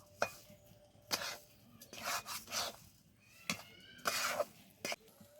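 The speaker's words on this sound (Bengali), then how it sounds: "তারপরে আবার একটু নেড়ে চেড়ে নেব" Spoon scraping and stirring semolina with sugar in a pan while making modak, giving several separate short scrapes and clinks with quiet gaps between them.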